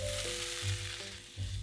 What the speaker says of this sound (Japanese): レンコンに火が通ったらピーマンを加える。 さっと炒めたら